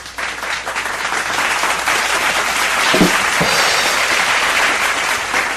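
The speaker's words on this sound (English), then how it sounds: "Panel, give me some applause for Alejandro, please." Panel audience at a convention interview applauding for voice actor Alejandro Saab, a loud, even wash of clapping that swells slightly and holds steady.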